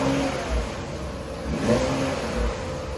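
An Infiniti Q50 3.0t with its muffler deleted revs in a steady, raspy drone, close and fairly loud with no talking.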